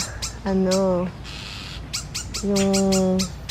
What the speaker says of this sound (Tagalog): Ito yung galit na galit talaga yung mga ibon.